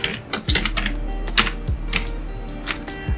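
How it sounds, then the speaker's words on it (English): Fast typing on a computer keyboard in a quiet room, a run of close, crisp key clicks with a few heavier keystrokes, as search keywords go into a browser search bar. "go to the search bar and type in the following keywords, that is D365 free trial"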